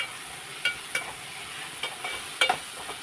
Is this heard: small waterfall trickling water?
no